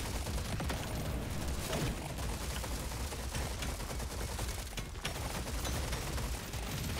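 Rapid gunfire from a weapon in Deep Rock Galactic: Survivor, a dense, continuous stream of shots close up and steady for the whole stretch, with no voices.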